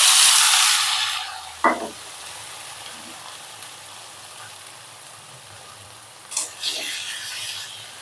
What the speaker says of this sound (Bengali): তাই সেই ভাইরাল কড়াইতে আমি আলু ভাজি করব।